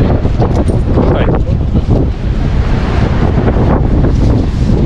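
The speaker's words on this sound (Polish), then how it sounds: "Tylko trochę wieje." Strong wind and crashing surf on the Baltic seashore at Darłówko after a storm roar loudly and continuously, with gusts buffeting the microphone and breaking waves churning underneath.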